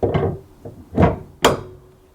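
A detachable towbar on a Kia EV3 clicks into its mount with three sharp metallic knocks and clunks, close by and loud, spaced out over about two seconds with no other sound between them.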